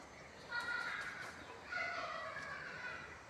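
Chickens cluck and a rooster crows, with a white pigeon kept among them in a house in Gangtok, Sikkim; two bursts of bird calls, moderately close and fairly quiet.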